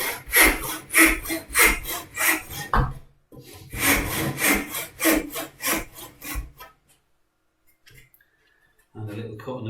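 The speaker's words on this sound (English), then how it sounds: "We saw all the way down to the waistline, maybe a tiny little bit beyond, just for safety." A hand saw cuts wood for a phone holder in steady back-and-forth strokes, loud and close, pausing briefly before a second run of strokes, then falling quiet with a final short scrape.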